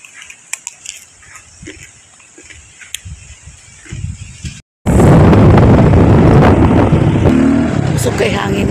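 Quiet voices and small noises give way after a brief dropout to a loud, roaring rush of strong wind buffeting the microphone.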